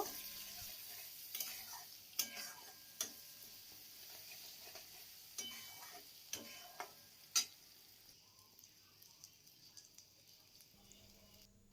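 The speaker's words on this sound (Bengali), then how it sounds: "এখন সমস্ত মশলা আমি ভালো করে কষিয়ে নেব" Spice masala fries in a pan while being stirred for an egg curry with potato and pointed gourd, a faint background sizzle broken by sharp, irregular scrapes and clicks of a spatula against the pan.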